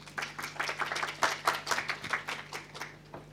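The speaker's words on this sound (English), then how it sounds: "Please welcome. Applause." A modest conference audience claps to welcome a speaker at a plenary session, a sparse scattering of distinct hand claps over a steady low electrical hum, fading at the end.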